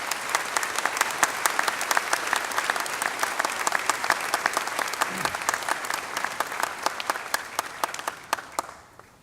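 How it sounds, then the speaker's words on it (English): Audience at a university spring commencement giving faculty and staff a round of applause: many distinct sharp claps in a sustained, fairly distant crowd ovation that fades out near the end. "Can we please give our faculty and staff a huge round of applause?"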